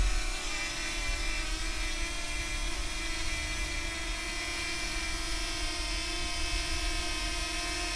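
A DJI Flip drone whirs steadily as it flies out about four meters and returns, its rotor buzz a constant high-pitched drone with a low hum beneath, holding near and fairly loud throughout with no talk.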